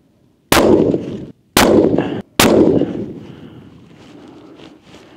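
Three loud rifle shots from a Sako 90 fired on an outdoor long-range shooting range, each a sharp crack with a rolling echo tail, the last one fading into wind noise.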